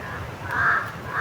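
A crow gives a couple of harsh caws, close and fairly loud, over a low background rumble.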